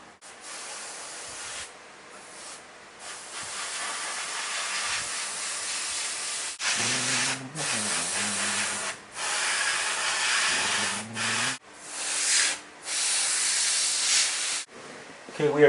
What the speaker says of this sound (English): I just sprayed it with some chrome, mirror chrome.